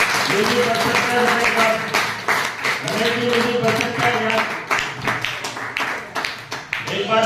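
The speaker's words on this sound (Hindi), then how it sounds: "एक बार अपने लिए जोरदार तालियां बजा सकते हो?" An audience at an indoor event in Hisar, Haryana claps steadily and loudly throughout, with a voice speaking over the applause.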